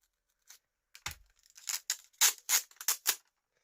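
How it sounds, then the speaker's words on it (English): Several quick scissor snips and crisp tearing sounds while trimming material for DIY isolation feet, a short close-up burst with a soft low thump near the start and no talking. "we'll just chop that bit off there with some scissors"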